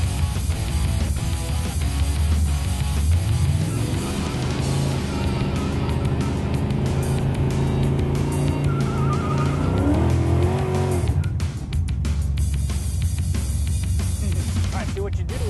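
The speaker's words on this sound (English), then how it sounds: "make it a good burnout." A 1967 Plymouth Barracuda doing a burnout, engine roaring loudly as revs climb and tires squeal in a long screech, with voices talking over it.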